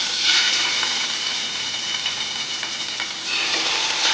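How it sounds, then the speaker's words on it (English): A salmon fillet sears in hot oil in a pan, a steady close sizzle and hiss with small crackles throughout. "we are first going to sear our salmon fillet. Once the oil is hot,"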